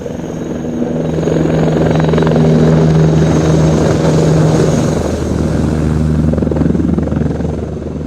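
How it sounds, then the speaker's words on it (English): A Eurocopter EC-665 Tiger battlefield attack helicopter flies past at an airshow, its loud steady rotor thump and turbine drone swelling and holding for several seconds before easing slightly. "the nation's main battlefield attack helicopter, the"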